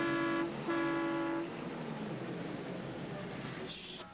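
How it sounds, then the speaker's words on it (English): A bus horn sounds in two sustained blasts, the first short and the second longer, followed by a low rumbling fade of traffic, fairly quiet with no voices. "There's the bus horn."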